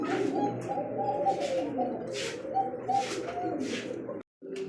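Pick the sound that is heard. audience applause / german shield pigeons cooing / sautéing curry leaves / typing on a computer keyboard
german shield pigeons cooing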